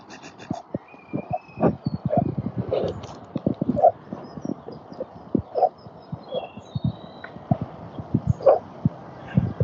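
A dog barks in a studio in short, sharp bursts, repeated irregularly at close range. Quieter thumps and movement noises fall between the barks, with no talk.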